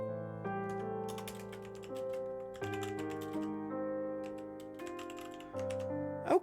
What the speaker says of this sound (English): Let me just write a note to myself real quick.